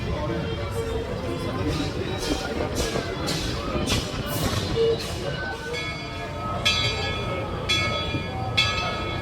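Train passing at Tokyo Disneyland, a steady rumbling roll with a few rhythmic clacks and bright metallic bursts, heard among a busy theme-park crowd with voices nearby.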